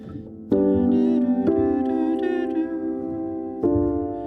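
A single voice sings a sustained, horn-like melody in long held notes, imitating a French horn, with a few swelling phrases and no other instruments.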